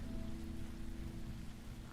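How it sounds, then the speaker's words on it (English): Rain falls steadily in a video game, a constant broadband hiss with a low hum beneath, even and unbroken with no talk. "It's still raining."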